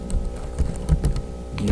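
Light clicking of a computer keyboard as text is typed, a quick irregular patter of keystrokes close by, with no talking.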